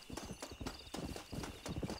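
A horse's hooves gallop in the video game Red Dead Redemption, a steady, rapid clip-clop rhythm of repeated hoofbeats, close and clear, with no talking.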